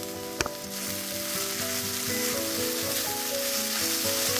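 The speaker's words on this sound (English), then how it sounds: "I'll add in my frozen vegetables" Frozen peas, carrots, corn and green beans hit a hot pan with onion, opening with a sharp clack and then a loud, even sizzle that holds steady throughout, no voices.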